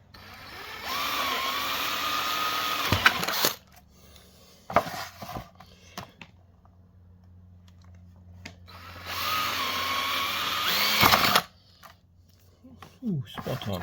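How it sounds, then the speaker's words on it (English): A jigsaw cuts through a plastic waterproof box being fitted with a switch panel, with two loud buzzing bursts separated by a quieter pause of handling clatter. "just enough so I can just get the jigsaw in and just follow it through"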